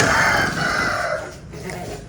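Chickens clucking close by, a loud short burst of fowl calls with a crow-like rise, briefly filling the space before fading.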